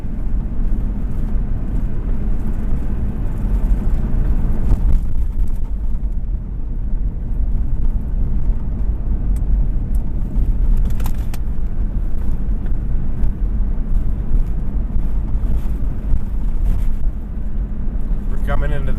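Steady low engine rumble of a car climbing a hill on a road trip from Hot Springs toward Lonepine, Montana, continuous and close throughout, with faint road noise and no clear talk.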